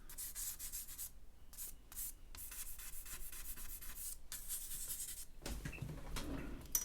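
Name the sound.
eraser rubbing on paper while drawing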